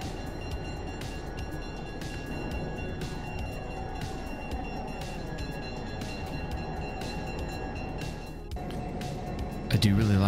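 A passenger train runs in Trainz 2019, an Alco PA and PB set meeting a southbound express, with a steady rolling rumble and rhythmic clicks under continuous talk.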